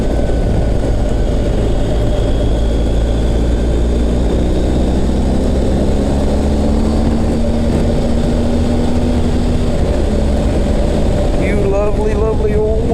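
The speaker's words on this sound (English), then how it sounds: "Lovely old motorcycle." An old motorcycle goes by outdoors. Its low engine drone rises gradually in pitch, partly buried under a loud, constant rumble of wind.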